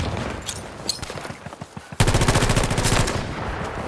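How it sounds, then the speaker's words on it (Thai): In the Battlefield 2042 game a gun fires a few separate shots, then unleashes a sudden, loud, extremely fast burst of automatic fire that rattles on for about two seconds. "ปืนเรามันลั่นโคตรเร็วเลยนะจริง"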